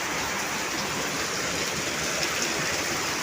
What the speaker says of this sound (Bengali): কি বৃষ্টি, কি হাওয়া